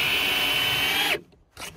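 Power drill driving screws into a wooden board, a steady loud whine running continuously before cutting off, followed by a brief quieter burst.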